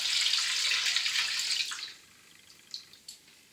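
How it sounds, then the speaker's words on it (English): Two litres of water poured into a tub of paint for a mist coat on new plaster, a bright steady splashing pour that stops after about two seconds, followed by a few faint drips and knocks. "Now I'm going to add the 2 litres of water to the paint."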